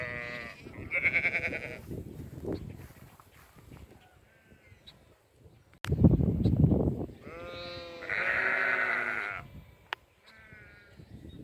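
Several sheep grazing weeds in a pasture bleat in wavering, nasal calls, some overlapping, with quieter rustling and grazing noises between the louder bleats.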